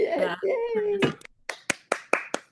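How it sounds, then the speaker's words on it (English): At a climate justice awards ceremony, a speaker's voice is followed by a handful of sharp, isolated claps, about five distinct hand claps spaced evenly and close by after the talking stops. "So can everybody give a virtual round of applause, please?"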